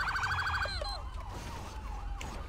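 A police siren in the video game GTA 5 wails in rising and falling sweeps, loud at first then shifting pitch and fading slightly, over a steady low engine rumble.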